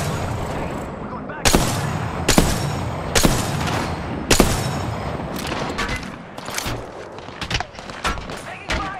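Gunfire in Rainbow Six Siege, several sharp, loud shots and short bursts spaced irregularly over a few seconds, mixed with other game sounds and some in-game voice chatter.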